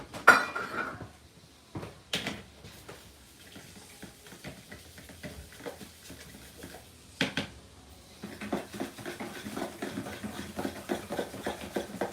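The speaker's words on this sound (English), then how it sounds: "All right, I'm gonna stir that up." Burger bread ingredients are stirred in a container, with scattered clinks and scraping of a utensil against the container, some sharper knocks, and a busier stretch of stirring toward the end.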